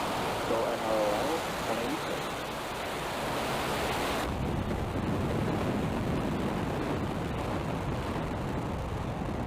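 A SpaceX Falcon 9 rocket launching from a West Coast spaceport gives a broad, continuous roar with wind-like rumble, thickening in the low end partway through and staying loud to the end.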